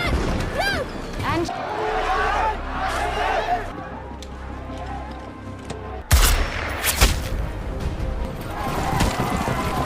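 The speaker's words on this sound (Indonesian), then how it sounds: "terpaksa mengeluarkan tembakan peringatan ke udara hingga ke manusia" Warning shots ring out in a film scene of an aggressive crowd: a couple of sharp, loud gunshot cracks cut through a busy background, with a voice speaking over the action.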